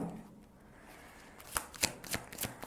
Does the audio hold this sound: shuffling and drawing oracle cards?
yes